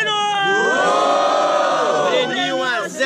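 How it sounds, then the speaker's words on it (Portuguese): A loud crowd at a student rap battle in Guarulhos, Brazil, roars and cheers with shouting voices, sustained for a few seconds, close and energetic. "Diferentemente, barulhos pro Breno."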